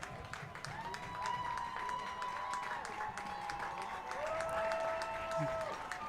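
A football crowd of Warrior fans cheers and applauds steadily from the stands at a Hudson Raiders game against Rice Lake, a sustained wash of clapping and shouting with faint tones running through it.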